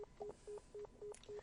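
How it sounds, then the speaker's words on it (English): Repeated short tones from a phone in the NEKOPARA Vol.1 video game, about six evenly spaced beeps, faint and clean, with no talk. "Why is no one picking up the phone?"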